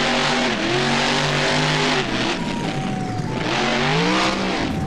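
A monster truck engine in the BeamNG video game revs hard during a freestyle run doing cyclones, loud and close, with rising and falling engine pitch and tire noise throughout.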